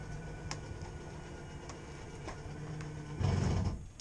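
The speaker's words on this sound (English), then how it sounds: "you'll start hearing a little ticking sound." Faint, slow mechanical clicks tick at roughly one-second intervals as the slide-out of a 2020 Jayco Jay Flight 34RSBS travel trailer extends, then a motor hum swells briefly near the end.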